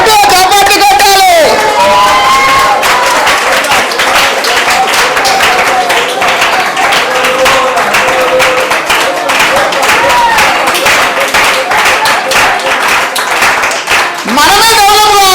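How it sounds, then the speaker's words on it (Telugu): Rapid clapping from a church congregation mixed with cheers and whoops, loud and continuous for about fifteen seconds, with raised voices calling out over it. "చప్పట్లు కొట్టాలి."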